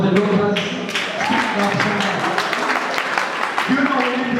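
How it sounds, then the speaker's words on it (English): An audience at a high school in Kyotera claps for doctors, steady dense applause mixed with cheering voices and talk throughout. "Clap for the doctors."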